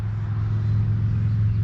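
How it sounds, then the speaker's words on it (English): Road traffic rolls past near an outdoor deck in the morning, a steady, fairly loud low rumble of a passing vehicle with no voices. "Sorry about the road noise."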